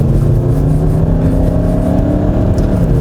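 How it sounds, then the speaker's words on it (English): A Skoda Kodiaq RS SUV accelerating hard in sport mode, heard as a steady, loud low engine drone with rising harmonics, continuous throughout with no talking. "let's put this baby into sport mode and see if that makes any difference. Pedal to the metal."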